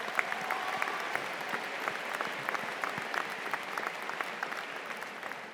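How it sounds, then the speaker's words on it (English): A graduation ceremony audience at a high school applauds, dense steady clapping from a large crowd that holds at an even level throughout without any voices rising above it. "Please join me in giving them a round of applause for their hard work and dedication."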